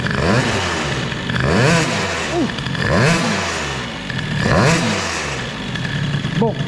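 A Peugeot 103 moped with an air-cooled hybrid Stage6 engine and reed-valve intake is revved hard in several rising and falling bursts, loud and close, its buzzing two-stroke note climbing and dropping repeatedly.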